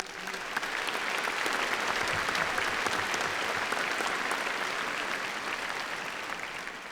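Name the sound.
graduation ceremony audience applause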